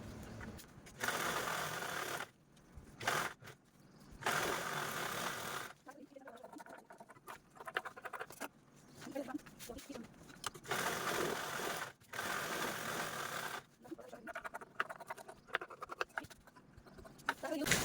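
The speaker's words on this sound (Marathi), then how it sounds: "आता मी ते टाचणी लावून घेतलेली आणि यावरतीच आपण स्टिच करू" Sewing machine stitching the side seams of a fabric travel bag, running in several bursts separated by short pauses, fairly close and steady while running.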